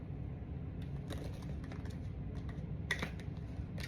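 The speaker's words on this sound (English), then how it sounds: "let's shuffle" Tarot cards being shuffled by hand, soft rapid riffling and flicking clicks in irregular bursts, quiet and close over a low background rumble.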